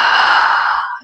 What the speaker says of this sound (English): you can begin to breathe through your throat in what's called an ujjayi breath